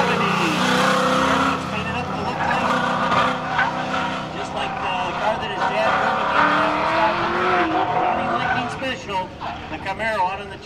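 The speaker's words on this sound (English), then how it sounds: "Here comes Al Unser Jr. in his regular car, a 1970." A 1970 Chevrolet Camaro race car at an SCCA CAM Challenge track event roars past with shifting engine pitch and brief tire squeal, loud and close, while a commentator talks over it.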